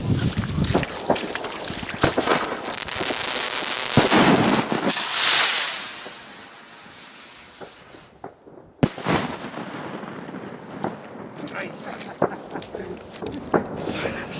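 New Year's Eve firework bursts crackle and hiss outdoors, building to a bright whistling fizz before a sharp bang, with wind buffeting and voices between blasts.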